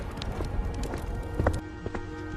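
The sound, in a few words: cartoon footsteps of Lakhan running home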